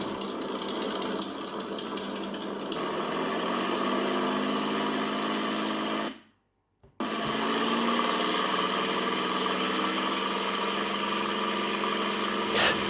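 A Spitfire's Merlin engine idles steadily while the aircraft taxis, a loud, continuous mechanical drone near the microphone that cuts out briefly midway, then resumes at the same level.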